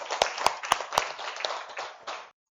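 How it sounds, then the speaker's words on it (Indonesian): A class of students claps for a classmate during an Islamic studies lesson on Asmaul Husna, several sharp claps up front over a busy patter of hands that fades out by the end. "Tepuk tangan untuk Habibah"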